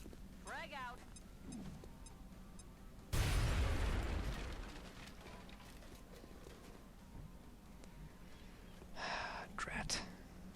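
Frag grenade explosion in XCOM: Enemy Within, a sudden loud boom with a rumbling tail that dies down over a few seconds, among smaller game sounds and pops.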